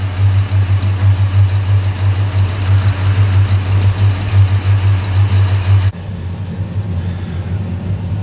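Mercruiser 350 MAG MPI inboard boat engine on a Tahoe 234, running with its drive disengaged and revved higher, giving a loud, steady low rumble that drops to a calmer idle near the end.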